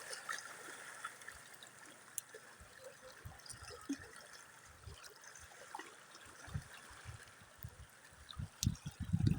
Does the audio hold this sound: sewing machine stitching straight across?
no